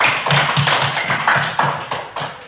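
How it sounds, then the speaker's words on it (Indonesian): A classroom group claps hands together in a steady, rhythmic beat, loud and close, the claps running continuously with no speech over them. "tepuk tangan dulu."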